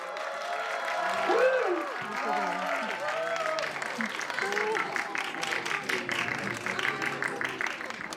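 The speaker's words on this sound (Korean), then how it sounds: "박수로 환영해 주십시오." Audience applause at a VIP film premiere stage greeting in a cinema, with clapping under overlapping talk and cheers, growing into rapid sustained clapping toward the end.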